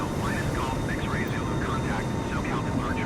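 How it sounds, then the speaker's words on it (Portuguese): A Gol Boeing 747 takes off from Los Angeles in Flight Simulator 2020, its engines giving a steady, loud roar throughout as a voice talks over it. "Boeing 747 da Gol, decolando de Los Angeles ali"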